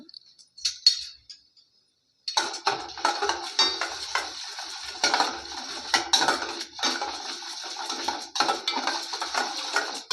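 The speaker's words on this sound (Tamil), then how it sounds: "எண்ணெய் சூடாயிடுச்சுங்க கொஞ்சம் கடுகு போட்டுக்கலாம் உளுத்தம்பருப்பு கொஞ்சம் பருப்புங்க" Mustard seeds and urad dal drop into hot oil in a pan for a South Indian greens stir-fry, bursting into a dense, steady crackling sizzle after a few faint clinks and a short silence.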